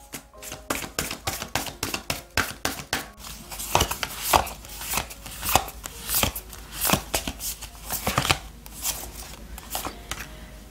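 Oracle cards being shuffled by hand in a steady run of soft, rapid riffling taps and slaps, close and fairly loud, continuing for around ten seconds with no voice.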